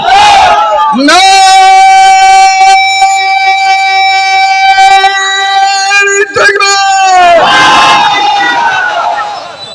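A large crowd at a religious rally shouts the Naraye Takbir chant, a loud sustained roar of many voices that rises, holds and then fades into cheering.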